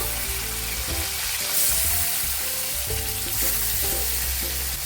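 Spices frying in oil in a pan for a vegetable curry, with tomato being added, give a steady close sizzle. Repeated scraping and stirring strokes run under it, and no one speaks.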